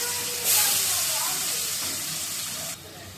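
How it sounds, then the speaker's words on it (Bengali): Potatoes fry in a pan of oil with dried chili and bay leaf, giving a steady loud sizzling hiss that flares up and then cuts back near the end. "আলুগুলো ভেজে নিচ্ছি।"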